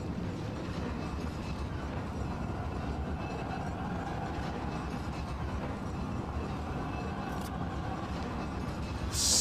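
Train in the video game Resident Evil 4, a continuous low rumble with a rolling clickety-clack of railcars, steady and moderately loud throughout, with no talking.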